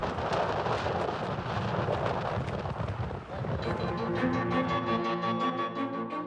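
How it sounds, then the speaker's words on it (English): A ferocious night storm at a volcano camp in Vanuatu roars continuously with dense rumbling wind and rain battering the tents, loud and unbroken, while a steady musical tone rises beneath it in the later half. "ride out this ferocious storm"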